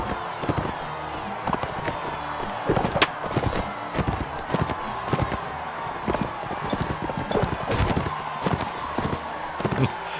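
Horses gallop through a medieval battle in the video game Mount & Blade: Warband, with continuous thudding hoofbeats and clattering impacts close by, alongside a voice talking.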